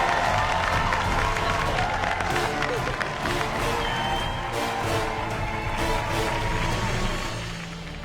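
Returned MasterChef competitors cheering and applauding in the MasterChef kitchen, a dense, steady wash of clapping and shouts that fades toward the end.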